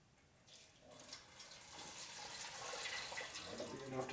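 Fuel pours through a funnel into the tank of a 1996 Harley-Davidson FXST Softail with an 80ci Evo engine in a home garage, a close, steady liquid gurgle that builds and continues throughout.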